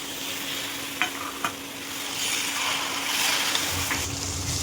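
Meat fries with spices in a pan, a broad steady sizzle with a couple of light utensil knocks early on, swelling slightly louder midway, close and alone without talking.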